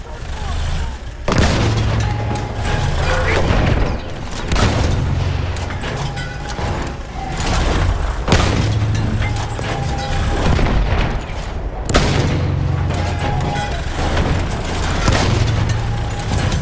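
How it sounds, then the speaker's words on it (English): Battlefield 1 artillery fire pounding an Amiens operations battlefield as the German Empire: loud repeated booms and crashing explosions come in waves over constant din of gunfire and combat noise. "Artillery sighted!"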